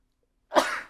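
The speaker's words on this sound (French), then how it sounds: "j'ai réussi à me forcer à éternuer" A single forced sneeze, close and sudden, one short burst that fades within half a second after silence.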